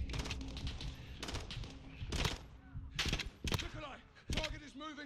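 Gunfire from the video game Call of Duty: Modern Warfare (2019), with bursts of loud shots and rapid automatic fire breaking out in several clusters over a noisy battle mix, with voices heard among the shots.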